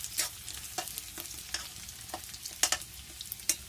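Onions fry quietly in a pan over a village-style stove, a low hiss under soft, scattered scrapes and taps from a makeshift stirring utensil at close range.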